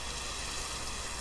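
Rain falls in the Minecraft video game as a steady, dense hiss of rainfall, loud and even throughout with no distinct drops or pauses.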